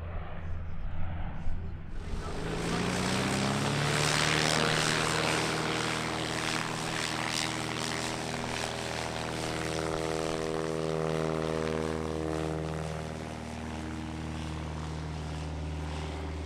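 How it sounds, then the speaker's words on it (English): A Nord Noratlas twin-engine propeller transport flying at an airshow drones in loudly after a quiet start, its engines holding a steady, throbbing roar that slowly shifts pitch as it passes. "This particular plane is operated by Le Nord Atlas de Provence, an association dedicated entirely to keeping this aircraft in the air."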